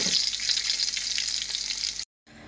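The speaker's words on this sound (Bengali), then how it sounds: "বন্ধুরা কই মাছটা লাল লাল করে ভাজা হচ্ছে" Koi fish (climbing perch) frying in hot oil in a wok, a loud, continuous bright sizzle and crackle that cuts out abruptly, then resumes more faintly.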